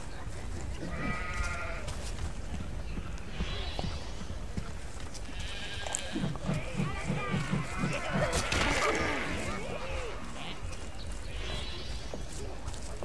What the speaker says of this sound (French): attaquer les moutons.